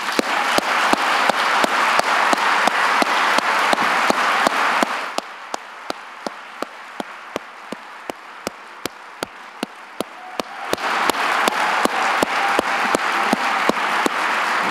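Audience applause fills a hall as a Pyne Prize winner is welcomed to the stage, sustained dense clapping that thins to scattered claps midway, then swells back to full strength.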